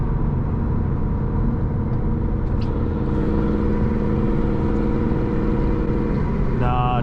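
A Hemi-powered car cruises along with a steady, low engine rumble and road noise throughout, the note shifting only slightly as it drives.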